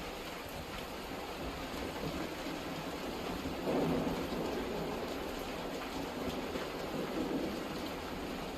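Steady rain pours throughout a night thunderstorm during wildfire season, with a low rumble of thunder swelling near the middle and again toward the end; no voices.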